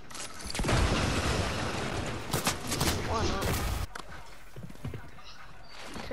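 Rapid bursts of gunfire in the video game Fortnite, loud and dense for the first few seconds, then thinning to scattered shots and thuds. A voice speaks over parts of it.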